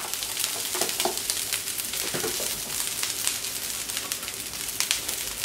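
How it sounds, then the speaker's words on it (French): Soybean sprouts and black mushrooms sizzle on a hot plancha with a steady crackling fry. Faint stirring and scraping sounds break through here and there. "vous allez le faire revenir rapidement sur la plancha avec une petite garniture"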